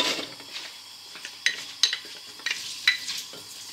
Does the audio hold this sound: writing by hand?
no